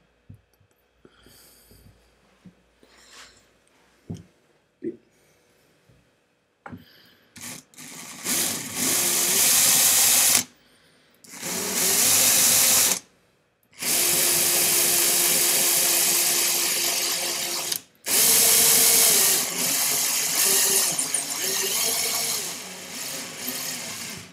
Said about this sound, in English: This is a two millimeter drill